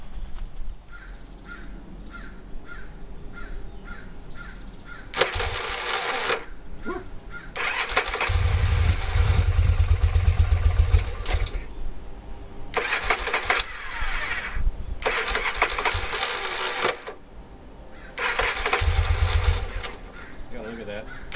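A Yamaha Virago motorcycle, freshly fitted with carburetors, cranks and fires up in bursts, its engine noise cutting in and out between quieter gaps, with a loud low rumble near the middle and again toward the end; a person talks in places.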